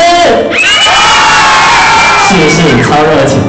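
An audience at a live stage event in Tainan screams and cheers, a loud, dense wall of high-pitched shrieks and whoops rising and swelling together for several seconds, close and overwhelming.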